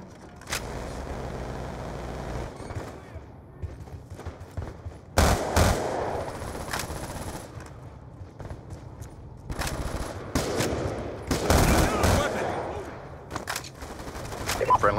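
Bursts of automatic and single-shot gunfire from a Call of Duty: Black Ops 2 PC multiplayer match, loud volleys around the middle and end with scattered shots and game noise between, some voices in the background.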